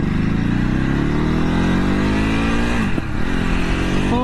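A 2023 Ducati Hypermotard SP motorcycle accelerates hard in a pull test, its engine note rising steadily in one long loud run, with a brief dip for a gear change near the end.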